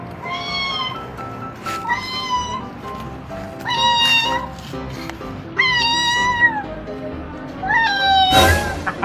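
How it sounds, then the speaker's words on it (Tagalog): A strange-looking cat meows repeatedly, loud and close, in several drawn-out rising and falling calls separated by short pauses, with a sharp noise burst near the end. "Kakaibang pusa ang namataan ng mga residente sa kanilang lugar"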